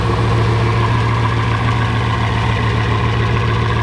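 A one-off Bugatti Veyron Grand Sport Vitesse runs nearby with a loud, steady engine drone and a deep, constant hum, no revving and no voices.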